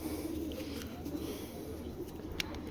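A female giribaz pigeon gives soft, low repeated coos close by, with a few faint clicks and rustles in the background.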